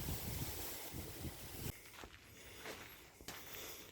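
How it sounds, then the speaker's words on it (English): Wind buffets the microphone in heavy, uneven gusts on a hillside hiking path through lemongrass at Nandi Hills, a broad roaring rush that drops and surges again, with faint rustling underneath. "And windy as usual."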